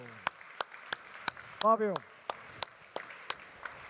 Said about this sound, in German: Großer Applaus für den Fabio